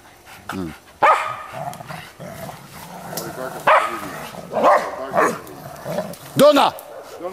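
A dog barks and yips repeatedly in short bursts nearby, mixed with whimpers and people talking over it.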